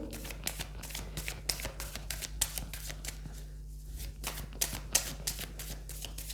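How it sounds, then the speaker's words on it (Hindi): Tarot cards are drawn and shuffled from a deck in a series of quick, soft, papery flicks and slides, close and fairly quiet, repeating in an irregular rhythm. "पहले मैं कार्ड्स निकाल लेती हूँ"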